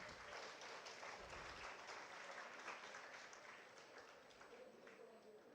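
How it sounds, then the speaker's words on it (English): Applause fills a hall at a school's 63rd annual day as the audience honors respected dignitaries, a dense, even round of clapping sustained throughout with no pause. "I would ask for a round of applause for our respected dignitaries."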